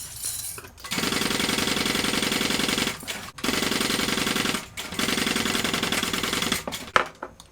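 Sewing machine stitching a bag, a fast, even mechanical rattle running in three long bursts with short pauses between, close and steady, with a small clunk at the end.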